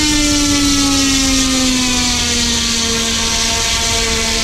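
Loud, steady high-pitched electric whine of an FMS P-40B Warhawk 1400mm RC warbird motor held at full throttle, with a faintly falling tone and no talk.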